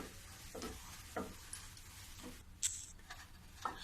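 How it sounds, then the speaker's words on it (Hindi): A spoon stirs a thick potato barfi mixture in a wok after the gas has been turned off, giving quiet, scattered scrapes and taps at an uneven pace close by. "अब गैस को मैं बंद कर देती हूँ और थोड़ी देर और मैं चलाऊंगी इसको"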